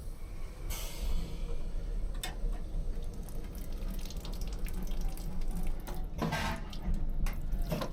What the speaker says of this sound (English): with a quick hand and face wash done